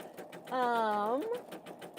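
A Pfaff Creative Vision embroidery machine sews a very wide satin stitch with a rapid, steady mechanical pulsing, while a person talks briefly over it.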